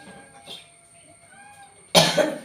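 A single loud cough near the end from a cook whose throat was irritated by the fumes of roasting chillies in a home kitchen, preceded by quiet background sounds.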